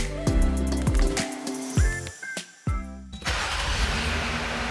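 A Jeep Wrangler engine cranks and turns over several times in short bursts, with clicks and mechanical whirs between attempts, and finally settles into a steady idle rumble.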